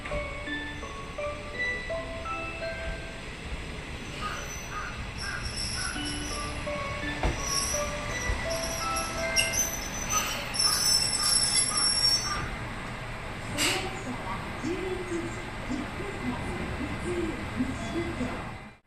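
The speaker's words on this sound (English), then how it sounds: "This train is an NT3000 type diesel train." An NT3000 diesel railcar on the Nishikigawa Railway runs along the line with a steady low rumble, faint wheel squeal and high metallic tones over the track, moderately quiet and without talk.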